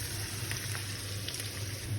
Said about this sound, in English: Our oil is very hot. So you start with the onion first so that it can cook.